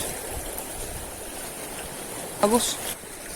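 Strong water current rushes against a shore during shore casting with soft bait, a steady broadband wash heard nearby, with a brief voice breaking in near the end.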